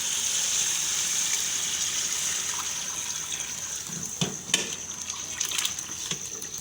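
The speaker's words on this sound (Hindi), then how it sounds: "अब इसमें हम यखनी डालेंगे।" Beef trotter broth (yakhni) pours into a cooking pot with paya and fried spices, a continuous liquid gush and hiss with a few splashes and clinks near the end, no talking.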